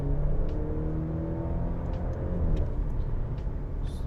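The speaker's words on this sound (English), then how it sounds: "So it has a clear pop on each upshift" A Maserati Grecale SUV engine revs steadily up close, its pitch dropping as gears change, with faint crackling pops from the exhaust on each upshift.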